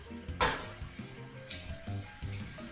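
Water splashes into a pot of bones for broth in bursts, several loud gushes separated by quieter gurgling and sloshing, close up in a kitchen.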